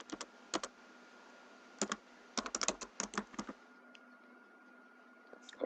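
Keys clack on a computer keyboard in short bursts, a few isolated taps followed by a quicker cluster of strokes, close and crisp over a faint steady background hum.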